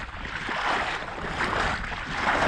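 Wading through water in a flooded corn field, a steady rushing, sloshing wash of water with wind buffeting the microphone, continuous and close.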